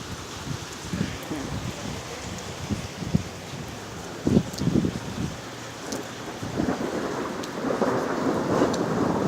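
Thunderstorm with rain falling steadily and repeated low thunder rumbles, one stronger roll midway, building toward a heavier continuous wash of rain.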